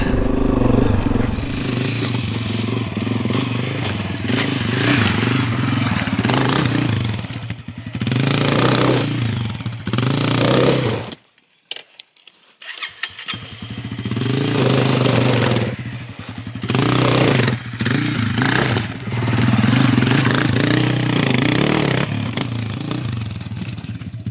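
A small dual sport motorcycle ridden through deep desert sand, its engine droning and revving continuously up close, briefly cutting out to near silence before picking up again.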